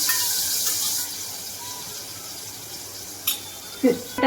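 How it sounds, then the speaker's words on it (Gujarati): Water runs into a bowl in a home kitchen, a loud rushing stream for about a second that then thins to a softer trickle, with a couple of brief knocks near the end. "પાણી નાખો એમાં વાટકેમાં"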